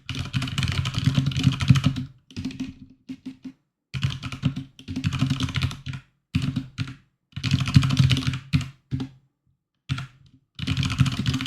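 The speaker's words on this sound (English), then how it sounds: "I'll just type that out." Computer keyboard typed at close range while writing Tableau Server Client code, in quick bursts of clicking keystrokes separated by short silent pauses.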